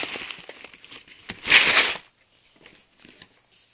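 A plastic bag holding 11,000 airsoft BBs is handled up close, with crinkling and a brief louder rustling shake of loose pellets, then quiet with faint handling sounds.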